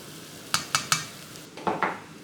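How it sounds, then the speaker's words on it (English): Spoonful of cumin, paprika, garlic and onions stirred in a pot for Texas chili: three quick scraping clinks of a utensil, then a couple of longer scrapes, close and fairly loud with no talk. "And now I'm gonna blend this to wake up the spices in the garlic and onions"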